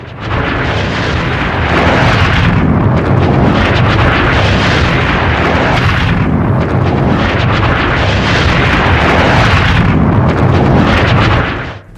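Explosions from an Iranian missile attack on Kuwait International Airport, heard as a continuous loud, heavy roar of blasts and rumbling that swells and surges across the whole stretch, with no voices.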